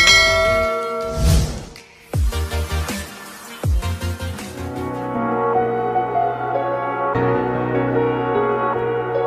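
A bright notification bell sound effect rings out in a few struck chime hits with long ringing tails, then gives way to sustained tonal music that continues to the end.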